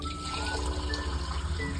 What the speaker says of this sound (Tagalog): Dudugan tayong tubig para diri mamara.